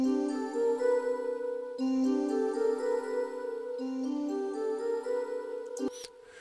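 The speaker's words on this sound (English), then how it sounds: "So we are now routing the cadence to a delay and the backbone to a reverb, and it now sounds like this." Sustained layered music with steady tonal chords, the rhythmic part fed through a delay and the backbone part through reverb, playing alone and fairly loud with brief breaks between phrases and a short clatter near the end.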